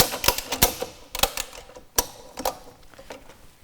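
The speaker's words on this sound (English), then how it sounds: "Pull our slack through and tighten up." A ratchet strap is cranked tight around a drum on an electric telescopic drum tipper, giving a close run of sharp, irregular mechanical clicks with brief pauses between strokes.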